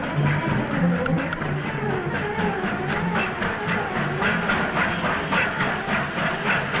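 Steam train running along rails during a 1940s film chase, with a continuous rumbling chug and rhythmic clickety-clack of wheels, loud and close, hissing steam layered over it and no clear speech.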